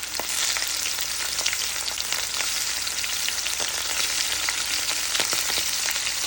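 Shrimp sizzle in a frying pan with garlic for a shrimp and bok choy dish, a dense, close, steady crackle holding level throughout with scattered small pops and no talking.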